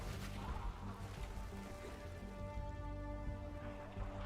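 A Fire Rain skill effect in an action role-playing game gives a soft, continuous pattering hiss like rain falling on a surface. It is faint and steady throughout, with low rumbling underneath.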